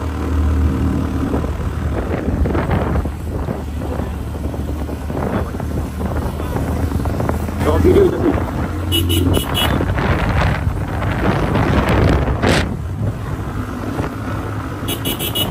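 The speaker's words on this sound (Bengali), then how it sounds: "আমাদের বাইকের ইঞ্জিনের সাউন্ড শুনে আপনারা বুঝতে পারবেন যে আমাদের বাইকগুলা কতটা বেশি লোড নিছে" Motorbikes labour uphill on Bandarban hill roads, their engines droning under heavy load amid gusty wind buffeting, with a brief toot-like burst near the end.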